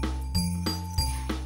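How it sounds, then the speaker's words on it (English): Jingle bells given as holiday gifts jingle in a bright, ringing shimmer, with a couple of light shaking accents over a steady tonal backdrop. "That's the sound of bells jingling."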